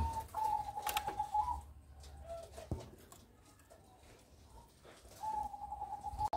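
Young pigeons sit at the nest, one just over a month old with a sore leg, giving faint, soft tonal calls in short repeated phrases against a quiet background.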